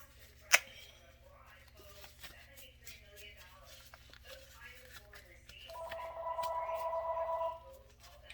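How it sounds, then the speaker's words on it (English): A telephone rings in a home kitchen during cooking: a single sharp click, then a steady, warbling electronic ring tone lasting about two seconds at moderate distance, with no talk. "The phone's ringing."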